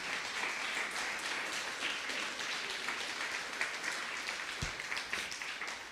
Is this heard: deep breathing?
no